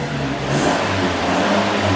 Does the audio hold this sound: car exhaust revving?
yes